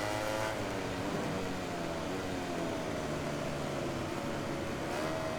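Whining motorcycle engine in the racing video game MotoGP 18, a steady high-pitched drone with shifting pitch as a bike holds close behind, loud and continuous.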